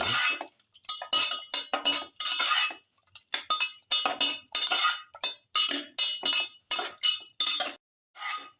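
Close, bright clinking and scraping of utensils against a dish as a lamb cauliflower rice bowl with salt is mixed, in rhythmic strokes over roughly eight seconds, with short pauses between them.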